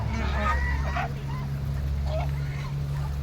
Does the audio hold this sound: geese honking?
yes